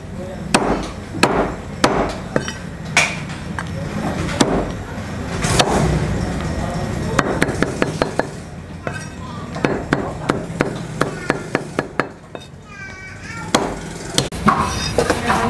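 Cooked food being chopped into portions with a knife on a board, a run of sharp irregular chops and knocks with pauses, amid background clatter in a small food business kitchen.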